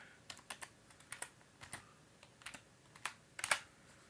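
Keystrokes on a computer keyboard entering a DOS command at an old Windows 1.0 setup, a dozen or so sharp clicks in an irregular rhythm with a short burst near the end, close and moderately quiet, no voices.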